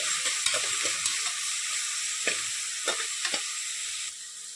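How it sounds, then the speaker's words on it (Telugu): Turmeric, coriander powder and chili powder stirred into softened ingredients in a hot pan for dhaba-style moong dal, a soft sizzle under a run of scraping spoon strokes, close and fairly quiet. "పసుపు, ధనియా పొడి 1/2 స్పూను, కారం 1 స్పూను వేసి కలుపుకోవాలి."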